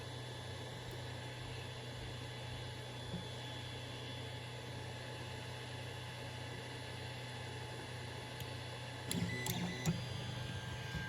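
A 3D printer hums steadily with a constant mechanical drone, faint and even, with a few brief clicks and rattles near the end.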